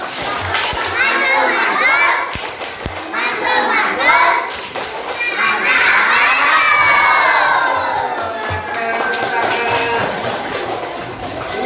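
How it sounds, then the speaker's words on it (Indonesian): A group of children in a classroom does the tepuk mantul clapping chant. Loud shouting voices ring out together with sharp claps, rising and falling over several seconds. "Ayo, tepuk mantul."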